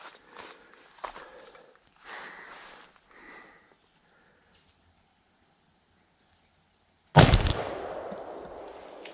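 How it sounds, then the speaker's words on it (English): Quiet shuffling and faint insect chirps lead up to a single loud, close blast from a Winchester 1887 rifle chambered in 70-150 WCF as it fires at a jug of rotten eggs, followed by a short, fading rumble. "And we're going to shoot that jug of rotten eggs."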